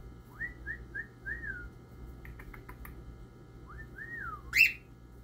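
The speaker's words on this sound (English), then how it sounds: "sometimes they just whistle like my little friend is whistling right now" Clear bird whistles, a cockatiel's rising-and-falling notes in two short runs separated by a pause, ending with a sharper bright chirp, over a low background hum.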